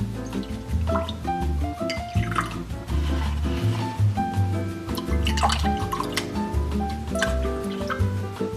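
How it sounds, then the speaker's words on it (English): Water is poured into a bowl while preparing sourdough croissant dough, a steady close trickle and splash lasting several seconds with faint clinks and movement around it. "I'm going to pour out 60 grams of water."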